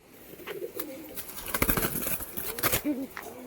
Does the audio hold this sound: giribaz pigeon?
yes